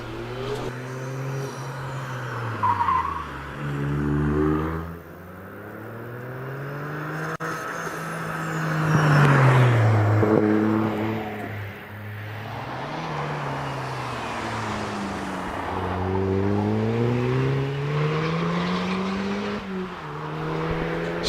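An Audi TT race car climbs a hillclimb course at Prescott, its engine loud and near, revving hard up and down through repeated gear changes over a long stretch.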